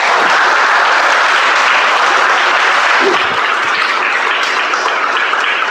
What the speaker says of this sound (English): Can we have a bigger round of applause for both of them, please?